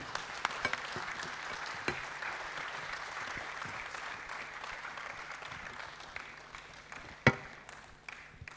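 A large expo audience applauds a keynote speaker steadily, a dense wash of clapping with a few sharper claps standing out, fairly distant.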